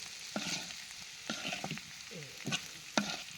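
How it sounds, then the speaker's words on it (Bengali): Bitter gourd fries in oil in a pan, a continuous close sizzle broken by several sharp stirring scrapes and clatters, with no talking. "করল্লা ভাজি হয়ে গেছে, শুধু তেলের উপরে ভাজছি।"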